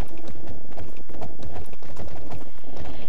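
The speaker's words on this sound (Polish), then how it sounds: "Można konia prowadzić za wodze." Horse hooves clip-clopping at a walk in the video game Alicia Online, a steady, fairly loud rhythm of repeated hoof strikes filling the clip with no speech.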